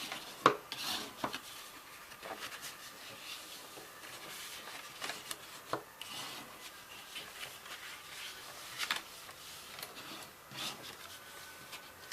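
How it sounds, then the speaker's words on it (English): A tool burnishing and scoring lines on a card box lid, quiet close rubbing and scraping strokes with a few sharper taps, soft and irregular. "we're going to burnish and score all the lines, score lines, on all four sides."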